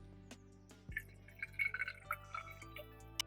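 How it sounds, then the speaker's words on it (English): Water trickles and drips as it is poured through a Katadyn BeFree filter into a Nalgene bottle, faint, with scattered irregular splashes and droplets over a quiet hum. "you open the top and you grab your water bottle, one's down here, and you pour it in"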